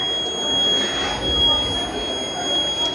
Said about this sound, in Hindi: जैसे ही इस पॉइंट पर हीट प्रोड्यूस की गई है तुरंत ही अलार्म बज उठा है